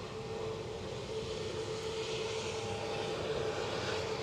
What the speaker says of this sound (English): an EasyJet from Bristol, an A320, 9 years of age, departed 52 minutes ago